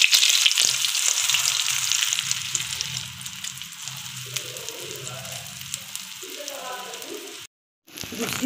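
An omelette fries in a pan over a medium flame, a bright steady sizzle that gradually softens, with faint low clatter of the pan, a brief silent gap near the end, then the sizzle returning.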